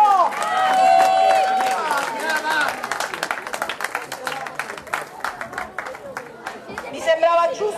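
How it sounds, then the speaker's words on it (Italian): Audience applause on a stage for performers Iacentino and Rosy and their group, dense clapping that starts loud, thins into scattered claps and fades under crowd chatter and a voice. "Un applauso ancora a Iacentino, a Rosy e al suo gruppo."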